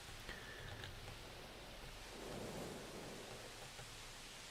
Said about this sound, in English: Oh, what a surprise, it's raining again.